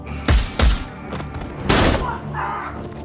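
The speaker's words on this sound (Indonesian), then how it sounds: "Tetapi kemudian istri Udin tiba dan menembak polisi itu." Several loud gunshots ring out in a film scene where a woman shoots a corrupt police officer, two sharp blasts close together, then a third, followed by lingering rumble and scattered bangs.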